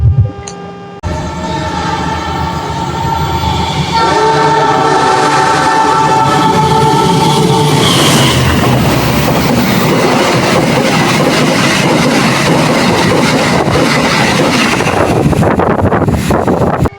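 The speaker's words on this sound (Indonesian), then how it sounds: "tepat pada pukul 11:51 kita diberangkatkan kembali dari stasiun Maos" The KA Kutojaya Selatan train pulls out of Maos station, engine drone and tonal hum building into a loud, steady rumble of rolling wheels and wind noise.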